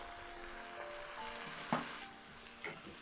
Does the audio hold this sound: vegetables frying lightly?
yes